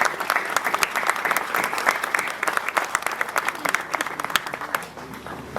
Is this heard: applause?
yes